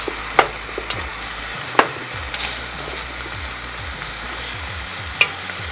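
Chicken organs sizzle and bubble in a pot for chicken stock, a steady frying hiss broken by a few sharp stirring clinks and scrapes.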